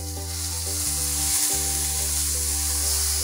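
Finely chopped onion and green chilies fry in hot oil, sizzling loudly and steadily throughout, with a low mechanical hum underneath and no talking.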